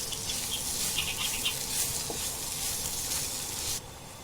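Turmeric and whole spices frying in a pan for besan badi and kebabs, a close, steady crackling sizzle that fades near the end, with no voices.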